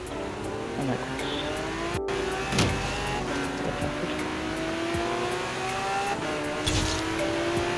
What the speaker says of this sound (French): on se retrouve cette fois dans le V12 Lamborghini pour comparer un peu les deux